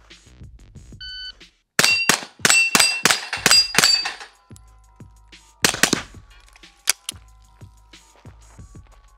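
Walther PDP pistol firing at a steel plate rack, a quick string of sharp shots each followed by a bright metallic ring, a pause, then a few more shots and clangs, loud and close.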